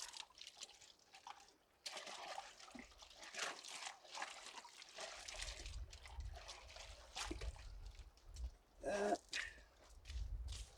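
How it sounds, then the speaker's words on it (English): Water rinsing and trickling through a gold sluice box with a mat, running at the end of the run into a pan, with splashing and dribbling that grows louder and steadier partway through. "I'll rinse out this sluice box real quick."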